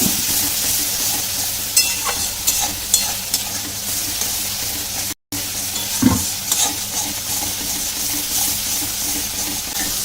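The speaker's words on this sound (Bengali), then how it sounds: "একটু অল্প পরিমাণে একটু জল দিয়েছি আর দেবো ওর মধ্যে একটু হলুদ গুঁড়ো দিয়ে ভালো করে কষাতে থাকবো" Turmeric and spices stirred and sautéed with a splash of water in a pan for a pangas fish curry, giving a steady sizzle with frequent scraping spoon strokes, close up, plus a brief dropout midway.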